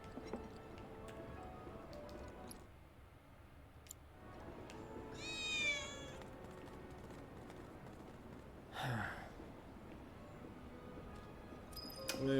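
A cat in the Final Fantasy 7 Remake video game lets out a wavering meow midway through quiet game ambience, with light ticking and a later soft breathy burst.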